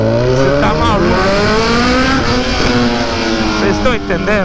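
A Honda CB1000 motorcycle roars loudly up close, its engine note sweeping up and down through revs in a continuous harmonic snarl with short throttle blips near the end.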